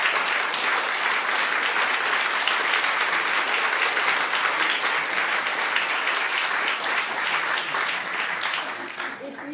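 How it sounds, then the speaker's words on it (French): A theatre audience applauds after an amateur troupe's performance of Goldoni's "Les commères de Venise," sustained loud clapping from many hands that continues for several seconds before tapering off at the close. "Donc je crois qu'on peut l'applaudir."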